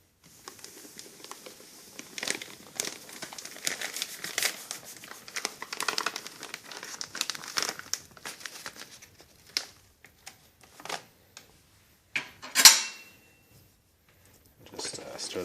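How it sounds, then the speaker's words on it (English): Three pounds of wheat dry malt extract pour from a crinkly bag into a hot pot, giving dense rustling, crumpling and soft patter that thin out into scattered crinkles, ending with a loud sharp crackle. "I'm adding the 3 pounds of wheat dry malt extract"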